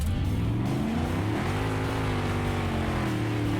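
A D-Series truck engine in BeamNG mud drags roars at full throttle with a steady, loud, deep drone, its pitch rising smoothly as it revs up, close and continuous with no talk.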